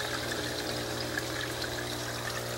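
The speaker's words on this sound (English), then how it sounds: "This is the pump." Aquarium sump pump in a DIY sump filter moving water, a steady close trickling and splashing pour under a constant low motor hum, with no talking.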